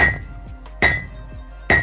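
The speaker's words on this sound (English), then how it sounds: "It's a lot of work hammering this much." An 8-pound hammer strikes hot knife steel on an anvil, three loud ringing metallic blows at a steady, slow rhythm with each clang decaying into a bright ring, close up.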